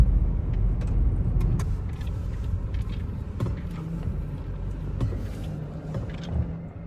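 A car drives along a mountain road near Kausani in Uttarakhand, a steady engine rumble and tyre roar that stays fairly close and loud throughout, with no one speaking.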